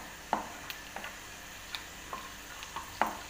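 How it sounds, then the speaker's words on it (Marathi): Peanuts fry in a pan for kanda pohe, a quiet sizzle punctuated by several sharp, isolated pops and clicks scattered across a few seconds. "मी आता शेंगदाणे टाकून घेतले आहे व याला छान फ्राय करून घेते।"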